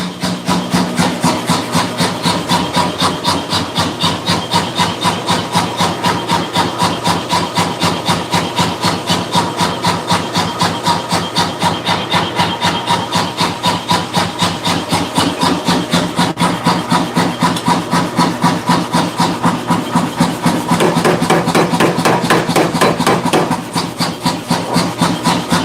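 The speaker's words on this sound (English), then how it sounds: "I'm working on a Damascus billet. I'm about to cut it, fold it." A Damascus steel billet is being cut with a fast, even run of rasping back-and-forth strokes that continues without pause for the whole stretch, close and loud, with no voices.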